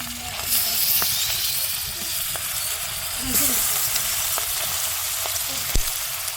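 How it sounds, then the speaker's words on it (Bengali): Prawns sizzle and fry steadily in a pan over a village clay stove, a continuous hiss with occasional pops and stirring clinks. "বাকি চিংড়ি মাছগুলো আমি একসঙ্গে দিয়ে দিচ্ছি"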